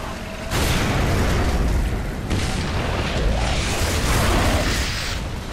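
A frag grenade goes off in Gears of War 3, a loud sustained roaring blast that rumbles on for several seconds with a second surge partway through, with no voices over it.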